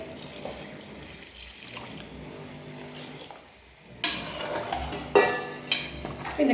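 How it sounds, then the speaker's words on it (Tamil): Measured water pours and splashes into a metal pot of bisi bele bath nearby, followed by a few clinks of utensils against the rim. "அளந்து தண்ணி அந்த தண்ணி வந்து நான் இதில் விட்டுக்கிறேன்"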